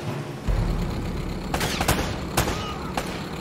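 Video game shootout from Uncharted: Drake's Fortune, with scattered gunshots cracking over a steady rumbling background, a few sharp bursts clustered near the middle and another later on, no voices.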